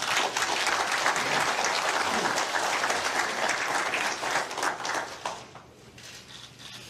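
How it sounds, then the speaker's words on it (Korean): A large crowd applauds steadily for several seconds at a 2017 South Korean presidential candidate debate, loud and dense, then the clapping thins and fades toward the end. "바쁜 유세 일정 가운데서도 자리해 주신 문재인 더불어민주당 후보를 박수로 맞아주십시오."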